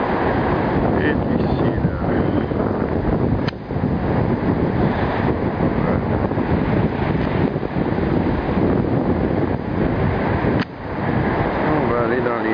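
Continuous rushing surf and wind noise fill the whole recording, with people talking intermittently close by over the steady wash of waves.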